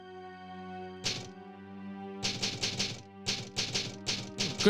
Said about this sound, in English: Good typewriter sounds.